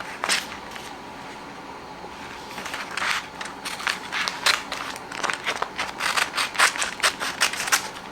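Scissors snip through appliqué fabric for machine embroidery, a run of short crisp cuts that start sparse and grow quicker and denser toward the end, close and fairly quiet with no talk.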